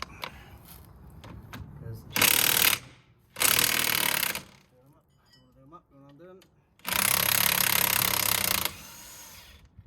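A power tool with a 21mm socket works on Mercedes Vito W447 coilovers, running in three loud, sustained bursts with quieter mechanical clicks and a voice between them.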